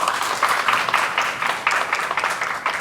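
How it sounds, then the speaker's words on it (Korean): An audience at a diplomacy forum roundtable applauds a speaker. Steady clapping from many hands, fairly loud, pulses in a loose rhythm without a break. "다시 한번 박수 부탁드립니다"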